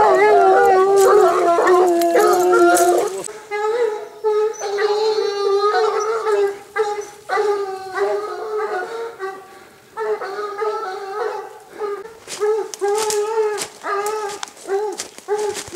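Scent hounds trailing wild boar during a tracking trial at Claveisolles, France, bay and howl in a loud, overlapping chorus that keeps breaking off and starting again, with several voices calling at once close by.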